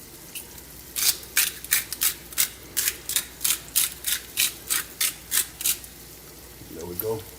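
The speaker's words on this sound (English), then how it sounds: "this is a salt grinder. Same difference. Well, it's salt, but it's let's see, it's Mediterranean salt." A hand-cranked salt grinder cracks Mediterranean salt in about a dozen regular, evenly spaced crunching bursts, close and clear, before a short rustle at the end.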